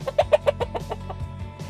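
Hen chickens cluck in quick, close bursts, a rapid series of short clucks over about two seconds with no talking.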